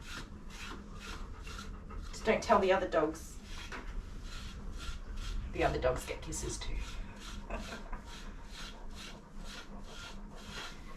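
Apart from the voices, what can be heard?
brushing a Maremma dog's coat during deshedding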